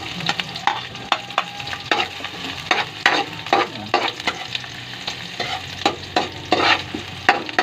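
Chopped garlic and onion sautéing in a pan for a home-style Filipino bottle gourd and sardine dish, with a steady sizzle broken by frequent rhythmic scrapes and clacks of a spatula stirring, close and clear.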